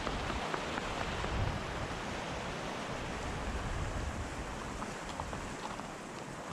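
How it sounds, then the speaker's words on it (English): Rushing water at a Colorado ranch on a rainy day makes a constant, dense hiss that stays even and unbroken with no voices. "The water's really rushing, you can hear that."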